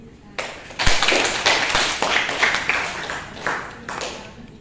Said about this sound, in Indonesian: kita beri tepuk tangan untuk kita